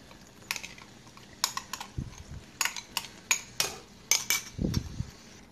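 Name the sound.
stirring cottage cheese and Parmesan mixture in a bowl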